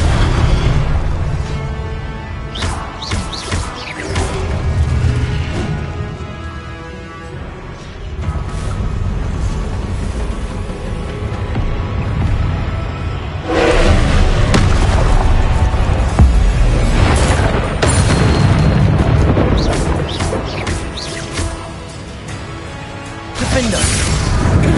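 Confringo blasting-spell explosions in a video game, with loud booming bursts and crashes that repeat across a dense, continuous wash of game effects and music.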